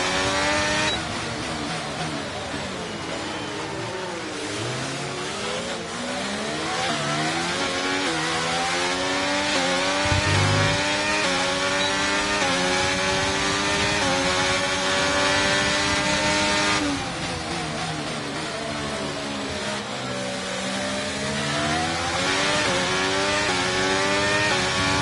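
A Formula 1 car engine in the F1 23 video game screams continuously, pitch climbing and falling through gear changes as the car gets up to speed, loud and close for the full stretch.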